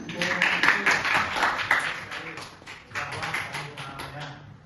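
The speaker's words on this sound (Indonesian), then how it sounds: "Tepuk tangan." A group claps steadily for several seconds, the applause fading slightly midway and rising again before trailing off.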